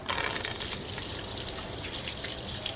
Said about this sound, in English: Let's see how long it takes to empty the bottle.